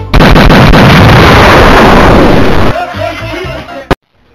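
Shotgun blast in the 1994 American Laser Games title The Last Bounty Hunter on MS-DOS, a very loud booming burst that fills the start and decays into rumbling, ending with a sharp click-like pop before cutting to silence.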